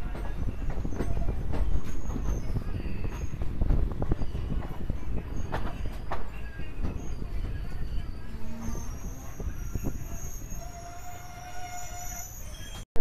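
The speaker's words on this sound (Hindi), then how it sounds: "अपनी ट्रेन की अराइवल हो रही है बिहार शरीफ रेलवे स्टेशन पर," A train pulls into Bihar Sharif railway station on the Patna–Rajgir line, wheels rumbling and clattering steadily with faint squeals and a distant horn, while people talk in the background.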